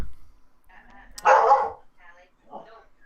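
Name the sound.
dog barking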